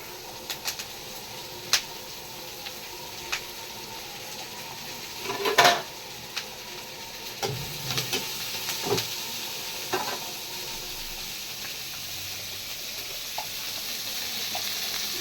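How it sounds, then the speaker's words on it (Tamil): Okra frying in a pan with curry leaves and cinnamon, a steady sizzle with scattered sharp clicks and crackles of stirring, and no talk. "ரெண்டு கருவேப்பிலை ரெண்டு பட்டை வத்தம் வெண்டைக்காய் போட்டுருங்க"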